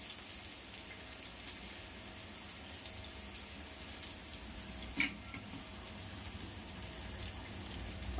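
Cut onions tipped into banana slices frying in a pan over a medium flame, giving a steady, soft crackling sizzle throughout with one brief sharper clatter near the middle.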